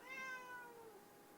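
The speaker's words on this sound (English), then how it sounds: "I'm sure you can hear the cat. He's crying" A cat lets out one drawn-out crying meow, harmonic and wavering, that slowly falls in pitch and fades, close but quiet, with no talking.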